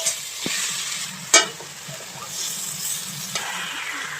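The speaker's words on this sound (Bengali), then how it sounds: "চলো এবার শুধু কষানো আর কষানো চিকেন দিয়ে ভালো করে কষানো কষানো" Chicken is sautéed and stirred in a hot pan, a bright continuous sizzle with occasional scrapes and one sharper clank of the spoon against the metal, close and without speech.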